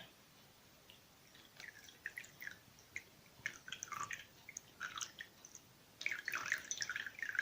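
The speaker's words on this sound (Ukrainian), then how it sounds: "Малу дірочку розрізала, що ледь тече" Milk dripping slowly through a small cut hole in a bottle, faint irregular drips and trickles that thicken toward the end, quiet with no voices.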